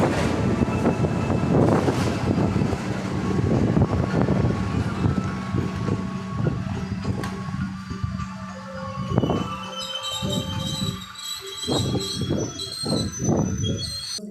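A Jakarta–Jogja Bengawan passenger train hauled by locomotive CC 2017713 rumbles loudly nearby, with heavy rolling clatter, wheel squeal and wind buffeting, easing toward lighter rattles and high metallic tones near the end.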